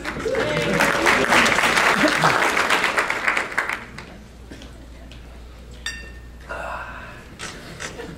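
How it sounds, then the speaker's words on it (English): An audience at a conference gives Jeff a big round of applause, loud and dense for about three seconds before thinning into scattered claps, light voices and faint clicks. "Big round of applause for Jeff, please."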